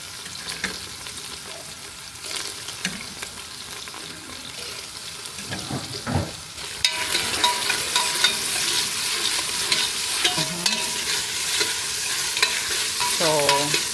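Onions fry in a pan alongside beef short ribs cooked for caldereta. A spoon scrapes and stirs them now and then, and the sizzle grows louder and steadier partway through.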